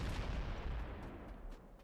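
A plasma cannon fires in Nuclear Throne, a heavy booming blast followed by a few sharp crackling bursts that fade away, loud and close with no talk.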